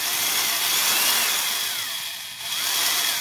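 A 4-amp, 1,000 RPM Porter Cable electric screwdriver runs with a loud, continuous high-pitched motor whine. A brief dip in the middle suggests the load shifts.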